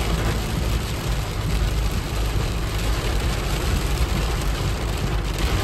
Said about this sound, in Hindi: गाइस बारिश बहुत तेज बारिश हो रही है